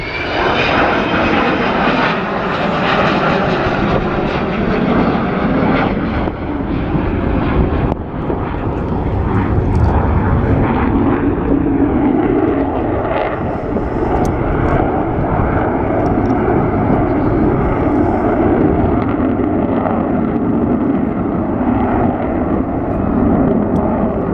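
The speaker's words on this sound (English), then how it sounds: "keeping this 55-year-old aeroplane flying" A 55-year-old Avro Vulcan bomber, number 558, roars overhead in a loud, continuous jet-engine rumble that holds steady and close for the whole stretch, with no voices.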